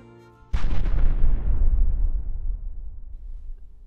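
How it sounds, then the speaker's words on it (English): A single loud sonic boom from Air Force jets at a nearby base cracks over the Arizona desert at Organ Pipe Cactus National Monument, then rolls into a long, deep rumble that fades slowly. "We have experienced two sonic booms since we've been in the park"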